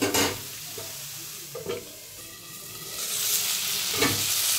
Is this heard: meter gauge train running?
no